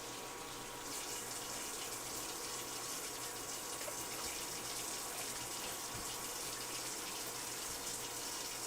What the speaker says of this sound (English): So I'm going to send those away to get rinsed.